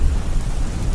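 Steady rain pours down with a deep rumble of thunder rolling underneath, loud and continuous for a brief moment with no voices.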